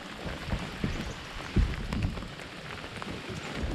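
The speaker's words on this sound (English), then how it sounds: "It started raining, so I put the camera away." Steady rain patters on a lake in late spring with wind noise, a few louder low thuds around the middle, no voices.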